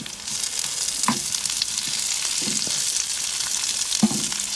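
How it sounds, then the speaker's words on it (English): Onions sizzle steadily in a hot pan, a constant crackling hiss with occasional soft scrapes of stirring, close up and without talk. "Sizzling away nicely."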